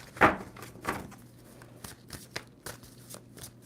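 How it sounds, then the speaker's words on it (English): Tarot cards shuffled by hand in a quiet room, two crisp riffling bursts followed by softer, scattered card taps and shuffling. "2 more shuffles for Taurus and their person."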